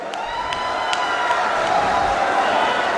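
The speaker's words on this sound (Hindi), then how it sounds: "आप सब लोग तालियां बजाकर माननीय राष्ट्रीय अध्यक्ष जी का स्वागत करें" A large outdoor crowd at a Samajwadi Party rally in Unnao applauds and cheers to welcome the party president, a continuous roar of clapping and voices with scattered sharp accents.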